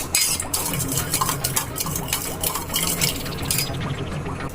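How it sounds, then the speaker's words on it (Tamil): Coffee being stirred after salt and sugar are added, with a spoon clinking steadily against the cup in quick repeated scrapes and taps, close and fairly loud, with no talking. "சால்ட் ஆட் பண்ணிக்குவோம். சீனி எடுத்துக்கிட்டாச்சு. கலக்கிக்கலாம்."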